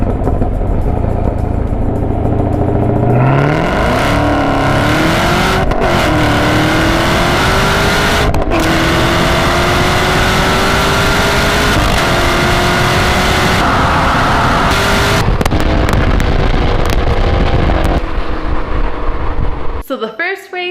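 A Camaro ZL1 and a Nissan GT-R race, with loud engines revving hard and climbing through gear changes for most of the stretch, then easing off near the end.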